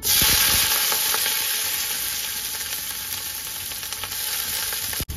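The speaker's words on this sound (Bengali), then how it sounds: "পেঁয়াজটা ভাজা করার সময় আমি একটু কাশ্মীরি লঙ্কা, কাশ্মীরি মির্চ আমি এর মধ্যে দিয়ে দিচ্ছি" Sliced onions fry in hot oil with whole garam masala spices and bay leaf, giving a loud, steady, close sizzle that hisses without a break for the whole stretch.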